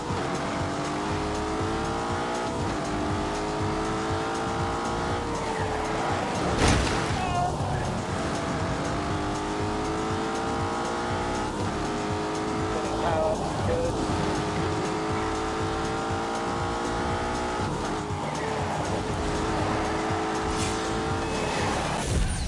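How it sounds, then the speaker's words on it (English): An Aston Martin with a twin-turbo 4-litre V8 producing 510 horsepower drives in The Grand Tour video game, its engine droning steadily as it revs rise and fall through gear changes. Someone talks over it. "Then we come to the engine. It's a 4-litre V8. It has twin turbos."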